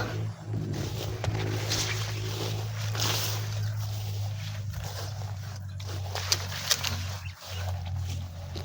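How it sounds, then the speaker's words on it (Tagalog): Motor engines running near a riverbank or shore, a steady low hum droning throughout under a rustling outdoor background with scattered footstep-like crunches and a couple of brief knocks. "rinig natin yung mga motor"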